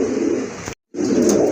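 A pair of pigeons coo in soft, throaty, continuous calls, close by, broken by a brief silent gap partway through, with no talk.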